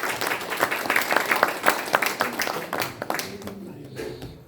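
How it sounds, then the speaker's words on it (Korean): Audience applause at a local political briefing on Hanam city joining Seoul, a room full of hands clapping briskly and steadily, near and fairly loud, tapering off as the clapping dies down. "여러분 박수 부탁드립니다."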